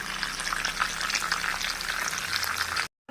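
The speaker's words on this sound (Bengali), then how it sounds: "আমি যে সর্ষে দিয়েছি সেইগুলো কিন্তু এক একটা করে ফাটবে।" Mustard seeds splutter in hot oil over a low flame, a dense crackling sizzle with scattered pops running steadily before cutting off abruptly near the end.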